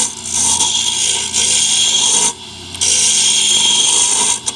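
Wood being turned down to a smaller diameter on a lathe, a loud continuous scraping, rasping cut with brief dips where the tool lifts off, close and without talk.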